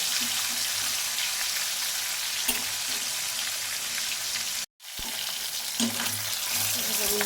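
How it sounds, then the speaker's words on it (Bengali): A rohu fish head fries in oil, making a dense, continuous sizzle with light spattering, close and steady, broken by one brief silent gap. "একদম লাল লাল করে ভেজে নেব একটু সময় করে ভাজবো"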